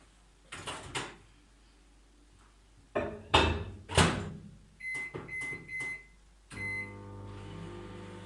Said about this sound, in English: It's going inside the microwave now for 7 minutes.